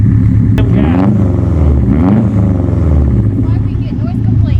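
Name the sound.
Subaru STI engine revving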